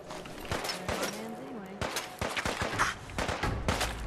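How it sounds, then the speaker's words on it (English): Rapid bursts of gunfire aimed at the player in Fallout 4 crack out in dense, repeated volleys, loud and close. Someone talks over the shooting. "Who was shooting me?"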